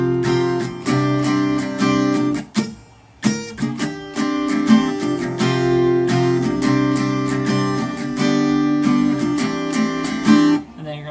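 Acoustic guitar strumming the rhythm pattern for a song, with brisk down-up strokes in a steady driving rhythm, loud and close, pausing briefly around the chord changes; no voices.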